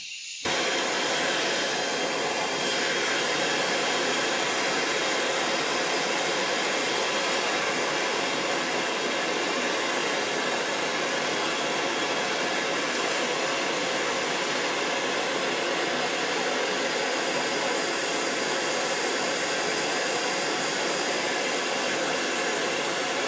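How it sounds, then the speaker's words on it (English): An enameling torch flame burns with a loud, steady, broadband roaring hiss that holds unchanged and close throughout, with no other sounds. "Light your torch from the bottom lip of your torch head."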